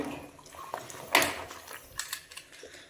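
Water sloshes and splashes softly as dirty clothes are pushed down to soak in a tub, with a few brief, close swishes and drips and no voices.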